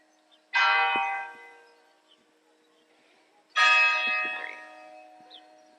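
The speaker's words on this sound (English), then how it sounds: "At 1:17 p.m. is when they ring the bell." Two loud strikes of a church bell in Malta a few seconds apart, each ringing out and slowly fading with a rich, lingering tone.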